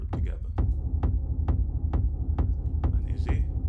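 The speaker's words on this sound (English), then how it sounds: "Okay, and this is with the reverb together." Kick drum with reverb programmed in Reason, thumping steadily about every half second with a deep boomy low end and a short reverberant tail, playing alone with no talk over it.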